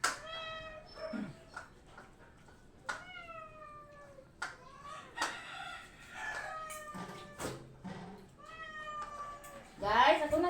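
Several cats meowing in high, drawn-out calls, one after another with short gaps, close and fairly loud, with a person talking softly now and then and a rooster-like squawk near the end.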